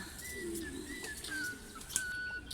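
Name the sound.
white pigeons in a cage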